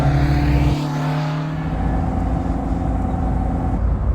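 A classic 105 project car drives along the road, its engine holding a steady, loud drone that shifts pitch near the start as the revs change, heard close and continuous with no talk.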